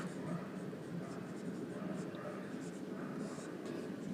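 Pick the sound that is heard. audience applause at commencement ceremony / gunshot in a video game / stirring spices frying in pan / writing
writing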